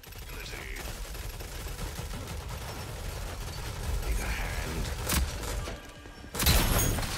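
Gunfire bursts from a Rogue Company match: steady rapid shooting and action noise throughout, with louder bursts near the middle and end, one sharp crack before the last heavy burst.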